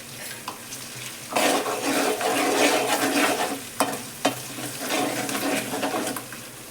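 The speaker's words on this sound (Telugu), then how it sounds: "అల్లం వేసి కలుపుకోవాలి" Chopped ginger fries in hot oil in a pan while a spoon stirs it, giving a rising sizzle with scraping strokes and a few sharp clicks of the utensil, close and without speech.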